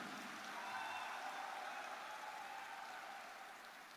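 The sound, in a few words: audience applause for Pramod Boro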